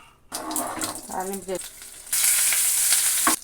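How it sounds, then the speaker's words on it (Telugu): Spices tempering in hot oil for a capsicum and peanut chutney, a loud crackling sizzle bursting in partway through after softer kitchen clatter and a brief voice, then cutting off near the end. "తాలింపు వేసుకుంటున్నాను"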